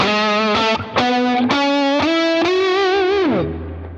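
PRS SE Hollowbody II electric guitar played through its magnetic pickups, with a loud, effects-laden tone that has slight chorus and reverb shimmer, a run of strummed chords and single notes ending in a bending, sliding note.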